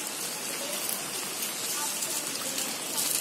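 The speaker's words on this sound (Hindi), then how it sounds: "कितनी बारिश है" A nighttime downpour of heavy rain drums and hisses steadily all around, loud and unbroken throughout.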